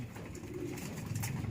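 Pet birds being fed, soft cooing calls close by under a steady background hum, a few faint coos over a short stretch.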